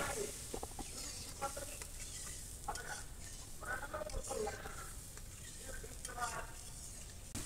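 Ground spice paste of cumin, cardamom and cinnamon frying in a pan with a little water, a close steady sizzle broken by repeated scraping strokes of a spoon stirring through it.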